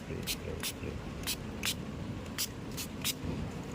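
Anti-fog and anti-rain spray misted onto a car's side mirror in roughly seven short, sharp hissing bursts, under a low steady background rumble.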